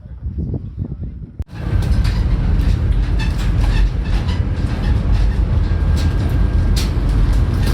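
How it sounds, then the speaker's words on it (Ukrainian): Riding on a trailer towed to a farm field, a loud continuous rumbling and rattling of the moving vehicle starting abruptly after a few seconds of quieter noise, with scattered metallic clanks. "Сзади у нас тролик, на котором ми їдемо пацаны"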